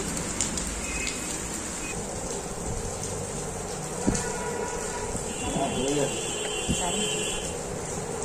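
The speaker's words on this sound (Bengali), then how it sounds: "তো বৃষ্টি দেখালাম তোমাদের" Rain falling steadily outdoors, a continuous broadband hiss with a few faint passing sounds, heard close and at moderate level.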